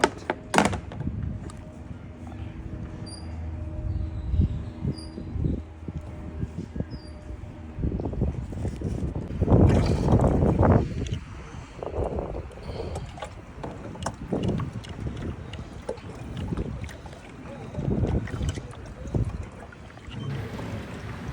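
Paddle strokes splash and swish as a new kayak glides across open water, with wind buffeting the microphone and irregular watery surges building into a louder burst midway before settling into softer dipping.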